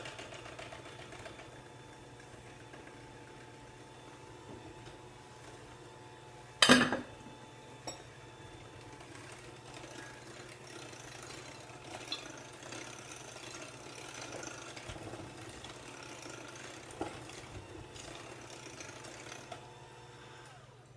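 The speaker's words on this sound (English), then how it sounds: "The eggs and the oil want to separate, so just blend them a little bit first" An electric mixer blends eggs and oil for an apple cake, giving a steady low motor hum throughout, with one sharp clatter early on and faint knocks later.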